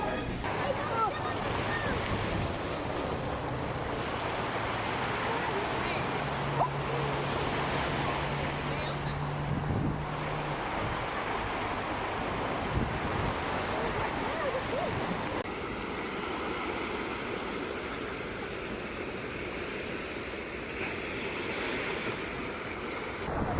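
Steady ocean surf washes and rolls continuously at Laniakea Beach on Hawaii's North Shore, a broad roar of breaking waves with wind buffeting the microphone.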